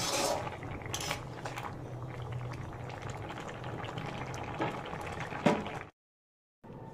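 A pot of ridge gourd curry with potato and cumin paste boils steadily, its soft bubbling hiss broken by a few light clinks before the sound cuts out briefly near the end.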